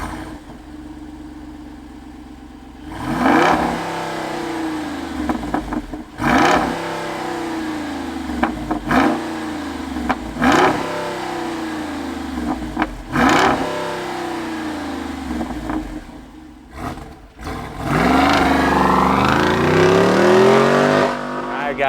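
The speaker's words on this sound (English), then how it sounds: "let's fire up this Jeep and hear what it sounds like." A Jeep Wrangler Rubicon 392 V8 fires up and revs repeatedly, each throttle blip swelling loudly and falling back to idle, ending in a sustained, heavy rev.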